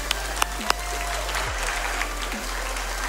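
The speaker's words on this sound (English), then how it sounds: "come on, let's give him another round of applause" A crowd at a Super Mario World relay race event applauds in a steady, sustained wash of clapping, with a few louder claps and some low hum underneath.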